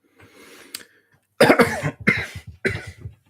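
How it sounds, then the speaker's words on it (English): A harsh, close cough bursts out in several rough hacks, loud and right up against the microphone, after a brief quieter breath. "Sorry for coughing straight down the mic there"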